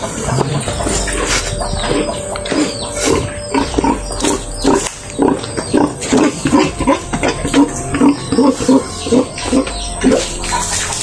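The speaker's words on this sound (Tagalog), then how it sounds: "Baboy yan." Pigs grunting and oinking repeatedly at close range, loud, choppy grunts in a steady irregular rhythm over a constant wet, splashy background, with no talking.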